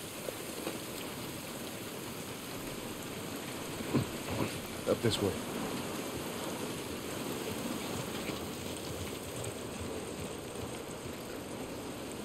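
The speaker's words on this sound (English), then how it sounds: "look at this fucking rain" Steady rain falls outdoors in the video game The Last of Us Part 1, a continuous broadband wash running the whole time, with a few brief louder splashes or thumps midway and a voice speaking briefly.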